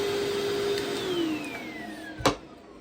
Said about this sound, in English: But she doesn't mind the Hoover.